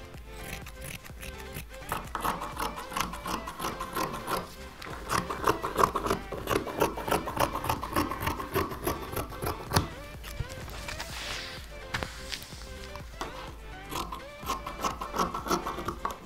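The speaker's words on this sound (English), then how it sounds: "Fabric scissors. And I'm cutting." Fabric scissors cut cloth for a trouser pattern, giving quiet, steady crunching snips in a repeated rhythm close by, with brief pauses between runs of cuts.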